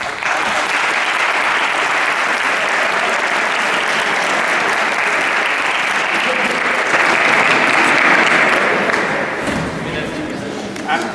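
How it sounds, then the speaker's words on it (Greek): Loud, sustained audience applause at a cake-cutting gathering, dense clapping filling the room for about ten seconds before easing off near the end. "αν κρίνω από το χειροκρότημα"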